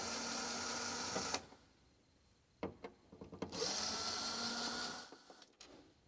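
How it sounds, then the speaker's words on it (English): Power screwdriver backing out the top cover screws on an Epson SureLab D3000 printer: two bursts of a close, steady motor whir, the first about a second and a half long and the second longer, with clicks and handling noise between them. "this is where the power screwdriver saves you time."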